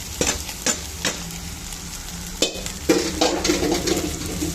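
Sabudana khichdi frying in oil in a pan, a low sizzle under scraping and tapping strokes of a spoon as it is stirred, close and moderately quiet.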